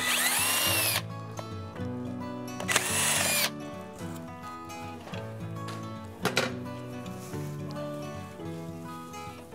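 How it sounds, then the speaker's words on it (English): An electric drill whines loudly in short bursts as it bores into wood, its pitch rising and falling, with rattling between runs. "We use my drill. It's a regular drill"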